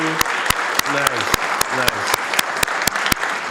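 Applause for a John Pappas Award recipient at the Hearts of Hayward volunteer awards and recognition event, steady and fairly loud, with sharp claps standing out at regular intervals and a speaking voice running briefly underneath.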